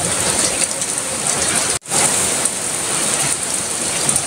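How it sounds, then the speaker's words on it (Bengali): Heavy rain pours down steadily, a loud dense hiss that is close and constant, broken only by a momentary dropout partway through. "বৃষ্টির শব্দ শুনে আবার উঠে গেছি"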